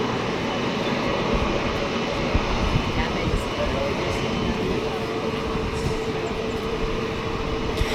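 An Air Cambodia ATR72-600 turboprop takes off from Tan Son Nhat airport, its engines a loud, steady broadband roar with a faint tonal whine running unbroken throughout.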